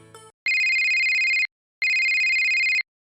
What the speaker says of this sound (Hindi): देखो किसका फोन आ रहा है